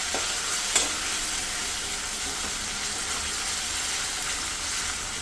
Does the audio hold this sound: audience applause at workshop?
no